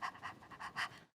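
A person imitates rapid, stressed panting, about five quick rhythmic breaths in just over a second, close and fairly quiet with no other sound.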